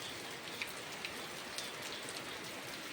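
Steady rain falls with a dense, even hiss, individual drops ticking faintly on a surface, with no voices.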